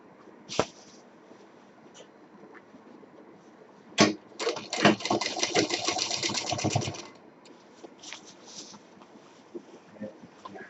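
A sewing machine stitches the piping around the curved edge of a cloth bag for college or shopping, giving a few short bursts and then one steady run of fast mechanical chatter lasting about three seconds, close and loud, with no talking.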